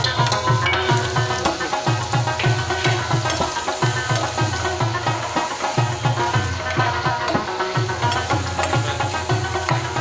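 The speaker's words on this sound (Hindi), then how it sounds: "डिशन के लिए हम ऑयल में अदरक डालेंगे, थोड़ा सा फ्राई कर देंगे इसको।" Ginger frying in hot oil gives a dense, continuous sizzle and crackle, loud and close, with a rhythmic stirring scrape pulsing underneath throughout.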